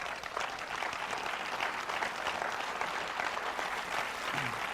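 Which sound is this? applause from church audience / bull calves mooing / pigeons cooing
applause from church audience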